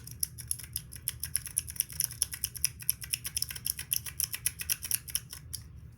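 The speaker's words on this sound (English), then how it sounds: "Then this clicky thing." A clicky squishy toy pressed over and over up close, giving a steady series of sharp, crisp plastic clicks in a quick, even rhythm over faint room noise.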